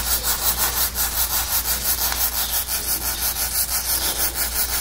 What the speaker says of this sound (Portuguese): E esse foi o som dele, e ele possui vários nomes, por exemplo, besouro arlequim, arlequim da mata